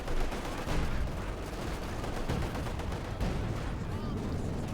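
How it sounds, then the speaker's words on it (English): Dense, continuous gunfire and artillery blasts from a Company of Heroes 2 battle between German and Soviet forces, a steady loud rumble of shots and explosions without pause. "Heavy fire around the center here."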